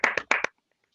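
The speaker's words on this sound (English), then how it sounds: "applause." A brief, close burst of about four quick hand claps, sharp and dry, ending abruptly in silence.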